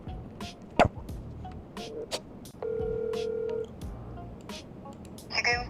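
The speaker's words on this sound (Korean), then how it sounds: "지금 전화해 보도록 하겠습니다" A phone dials a golf course: faint taps and clicks, then one sustained dialing tone lasting about a second, with a brief buzzy signal at the end.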